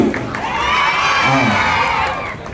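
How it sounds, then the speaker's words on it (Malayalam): A crowd at a busy Kottarakkara junction inauguration cheers loudly, with whoops and shouting voices swelling into a sustained roar close by, and only faint traces of clapping beneath it. "ഒരു നല്ല കൈയടി"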